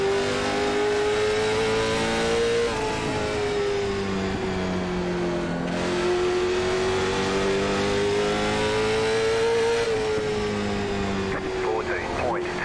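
A late model stock car engine in a racing simulation at Lanier drones steadily and loudly throughout, its pitch rising and falling gently while the car runs below full throttle. A voice talks over the engine noise.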